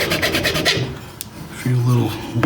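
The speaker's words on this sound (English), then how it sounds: "Now I'll take my trusty file and give it a few little" A metal file rasps against the wooden neck heel of a 1973 Martin D28 guitar during a neck reset repair, with several quick, close scraping strokes at the start and a low voice partway through.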